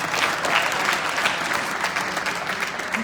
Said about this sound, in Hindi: देखिए जरा हैदराबाद के तालियां बजाएं कैसे